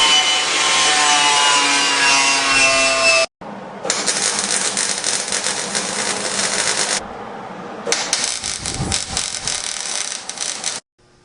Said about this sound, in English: I need to get a grinder and prep the floor so I'll get nice clean welds